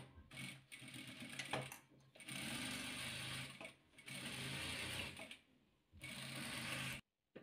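Sewing machine stitching fabric patchwork squares, running in several loud mechanical bursts of rapid stitching separated by short pauses, close up and alone.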